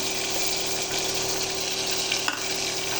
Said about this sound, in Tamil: கடுகு நல்லா பொரியட்டும் கடுகு. அடுத்தது பூண்டு, கருவேப்பிலை, காஞ்ச மிளகாய் போட்டுங்க.